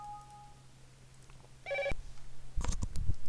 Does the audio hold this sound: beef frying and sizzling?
no